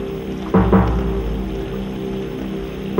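Rain falls heavily and steadily in a close, loud wash, with a few sharper bursts near the start and end and no voices.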